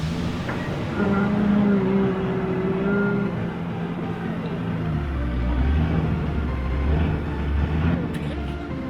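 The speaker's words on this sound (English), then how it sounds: "Left side tires are spinning." Off-road truck grinding up a steep hill at an off-road park, its engine rumbling and tires spinning in a rising whine and growl, close to the listener, with voices talking over it.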